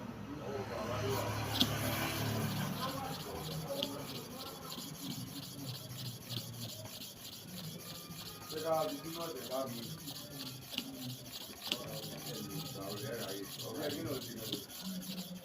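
A blade is rubbed back and forth on a sharpening surface, a soft rhythmic rasping to and fro, close up, with someone speaking briefly early on.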